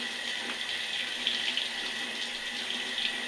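Water runs steadily from a bathroom or kitchen sink tap, a constant close hiss with slight splashing as it is played in, with no talking over it.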